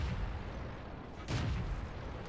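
A tank shell bouncing off an enemy Churchill tank in the World of Tanks video game, a single loud metallic impact burst near the middle over constant rumbling engine and battle noise.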